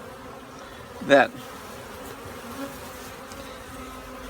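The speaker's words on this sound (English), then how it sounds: "look at all the bees hanging on her" Honey bees from a package buzz around their queen, a steady close hum of many insects with one brief louder buzz as a bee passes near, under soft speech.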